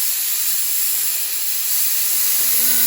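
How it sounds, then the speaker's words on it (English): Compressed air blasts out a trashed Mustang wheel before polishing, a loud, steady, continuous hiss held for a few seconds with no talking. "Always like to give it a blowout before I start."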